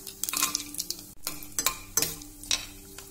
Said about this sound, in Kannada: ಸಾಸಿವೆ ಚಿಟಪಟ ಅಂತಿದೆ